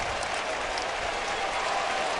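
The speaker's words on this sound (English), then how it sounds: "Everybody clap your hands." A crowd at a Chicago Cubs versus New York Mets baseball game clapping steadily, a distant, even wash of applause filling the stadium.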